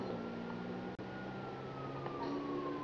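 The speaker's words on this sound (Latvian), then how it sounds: "Ko tik daudz sirēnas?" Several police sirens in the video game GTA 5 Online, steady wailing tones gliding together at moderate distance over a constant background rumble, with no talk.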